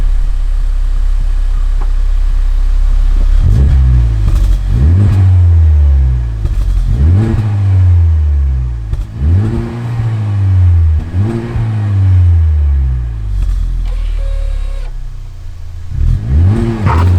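A 2020 Honda Civic Type R FK8 driving on Scottish roads revs up repeatedly, its engine note rising and dropping with each gear change in a steady, loud cycle of acceleration.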